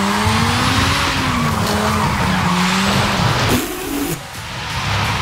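A Peel P50 drifting in Forza Horizon 5 gives a loud, continuous tire squeal over a steady engine drone, its pitch wavering and then dipping as the slide eases near the end.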